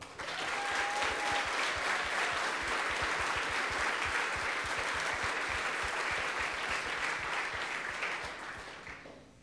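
A large audience applauds teams at the closing ceremony of the ICPC Latin America programming championship, steady, dense clapping sustained for several seconds before tapering off at the end.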